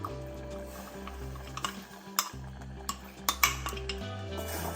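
Baby food made from Amritham powder is poured into a pan and stirred, metal utensils clinking and scraping against the pan in quiet, uneven knocks over a low steady hum, with no speech.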